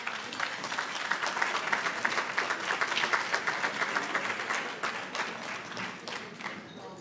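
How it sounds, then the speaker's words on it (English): Sustained applause from an audience at an annual salute honoring centenarians, a dense, even wash of many hands clapping that gradually tapers toward the end. "let's give her another round of applause."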